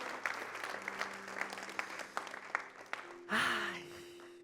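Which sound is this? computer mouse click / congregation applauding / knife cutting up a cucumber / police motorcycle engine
congregation applauding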